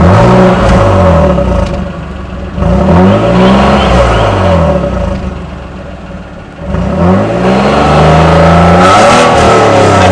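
Suzuki Grand Vitara V6 with a free-flow exhaust conversion revving repeatedly, loud and close, with rising and falling sweeps and a dip to idle between rev bursts.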